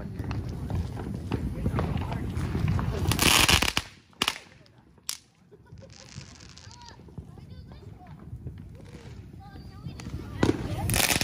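Fourth of July fireworks and firecrackers go off close by in sharp, loud cracks and bursts, a dense crackling barrage at the start followed by scattered pops and booms over a noisy outdoor background.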